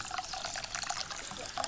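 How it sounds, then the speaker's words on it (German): Water trickling and splashing steadily as rice is set to soak in cold salted water at an outdoor campfire kitchen, close and continuous. "während wir hier den Reis erstmal in kaltem Salzwasser einweichen."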